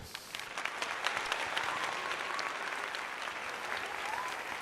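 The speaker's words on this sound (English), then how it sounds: "Give him a little round of applause" A small round of applause during a live basketball play-by-play stream, thin scattered clapping that holds steady for a few seconds.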